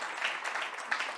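Audience applause for award finalists at a tech awards gala, a short burst of steady clapping from a crowd, moderately distant and even throughout.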